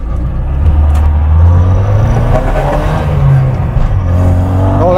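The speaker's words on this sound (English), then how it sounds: "Right, give it some acceleration." Car fitted with a Vauxhall red top engine accelerating hard, its loud close engine note rising and revving continuously with gear changes, no talk over it.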